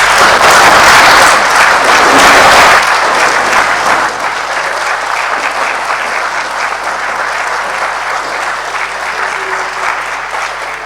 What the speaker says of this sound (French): je veux demander à la plénière d'applaudir très fort